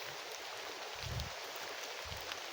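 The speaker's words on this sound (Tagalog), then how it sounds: "Ulan na." Rain falls steadily outdoors as a soft, even hiss, faint and continuous, with a couple of low muffled thumps nearby and no talking.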